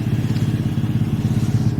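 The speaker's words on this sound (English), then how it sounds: "I just got a new exhaust on the 2020" A 2020 Ford F150 with the 2.7 EcoBoost engine idles through an MBRP catback exhaust, a close, steady low burble with fast, even pulses and no talking.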